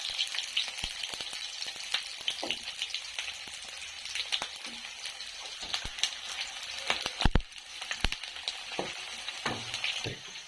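Tempering sizzles in hot oil in a village kitchen before tomatoes and curry leaves go in for a chicken dish, with faint steady frying crackle broken by scattered sharp pops and clinks of stirring.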